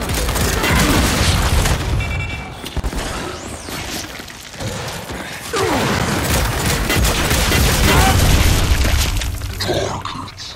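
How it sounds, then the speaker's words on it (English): Grenade blast in the Gears 5 video game, part of a dense, loud barrage of booming explosions and rattling gunfire that fills the whole stretch with repeated heavy bursts. "Grenade is hot!"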